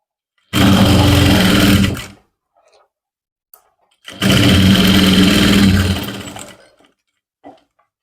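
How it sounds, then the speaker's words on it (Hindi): Close and loud, a sewing machine runs in two steady bursts of a second or two each, separated by quiet handling, while a zipper is stitched onto trousers. "फिर से हम इस कपड़े को चैन के ऊपर करेंगे इस तरह से और ऐसे सिलाई लगा देंगे।"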